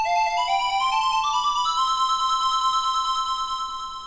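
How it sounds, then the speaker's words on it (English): An electronic song made in Music 3000, with bright tonal synth notes stepping upward in a simple melody over a soft buzzy backing, fading out gradually toward the end. "There we go, we get a fade out."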